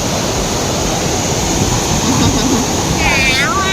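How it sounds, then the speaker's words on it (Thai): Steady rushing water from a small waterfall at Cheonggyecheon stream in Seoul fills the scene, a constant broadband wash with faint chirping birds near the end. "ตรงนี้เป็นน้ำตก"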